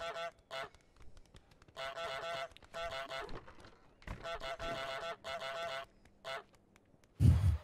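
Goose honking from Untitled Goose Game: repeated bursts of loud, nasal honks in quick clusters, separated by brief pauses, close and clear, ending with a low thump.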